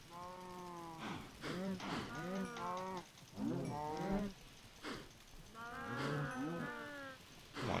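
Several cows in the Minecraft video game mooing repeatedly, overlapping drawn-out calls in irregular bursts, close and clear, with soft rain-like patter in the background.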